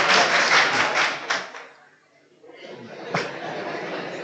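Students clapping in a classroom, a burst of applause mixed with chuckling that fades to near silence, then a single thump and murmuring voices.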